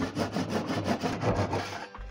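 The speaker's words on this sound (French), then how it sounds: "vous prenez une petite scie, hop, on vient couper là" A hand saw rasps through a wooden dowel in quick, even back-and-forth strokes, close up, stopping abruptly near the end.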